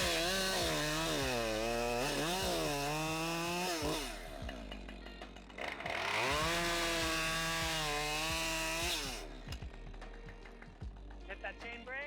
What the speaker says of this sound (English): Got my 550 here, which is my favorite climb saw.